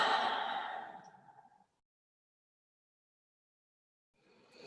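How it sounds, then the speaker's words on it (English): A single slow, deep calming breath exhaled softly and close, fading over about a second and a half, followed by silence and the start of another faint inhale. "just take 5 or 6 calming breaths"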